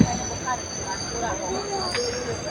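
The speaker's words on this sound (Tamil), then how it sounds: "ஒட்டப்பாளைய ஜங்ஷன் கரெக்டாக பதினொன்று ஐம்பதுக்கு வந்துருச்சுங்க வண்டி" A train pulls into Ottapalam junction on the Coimbatore to Shoranur line, with steady rolling rumble and metallic wheel squeal close by throughout, a brief louder squeal near the end.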